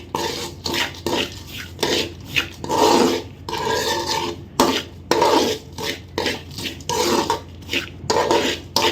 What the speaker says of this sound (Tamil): வறுத்த முந்திரி திராட்சை வேர்க்கடலை எல்லாத்தையும் இதில் மறுபடியும் போட போகிறோம் போட்டு அதையும் இதோட வந்து நல்லா மிக்ஸ் பண்ண போகிறோம்